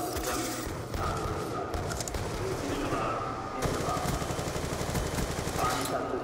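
Peacekeeper gun in Black Ops 2 on the Hydro map, rapid automatic gunfire rattling in dense, continuous bursts with thuds mixed in, loud and close throughout.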